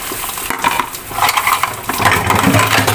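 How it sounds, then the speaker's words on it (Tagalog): Glasses, plates and cutlery clink and knock together while being rinsed during home dishwashing, with steady clatter and scraping close by throughout and no talking. "banlawan ang mga baso"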